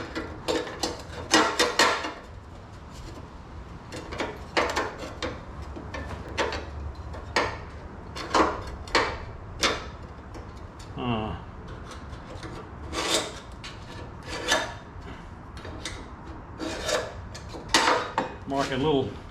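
A pointed scribe scrapes across sheet metal on a VW build, giving repeated short rasping strokes in irregular bursts, close and moderately loud, with faint speech-like sounds now and then.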